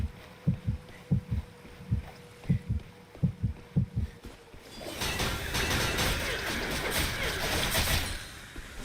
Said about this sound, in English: that heartbeat you hear means that there's an invisible player near you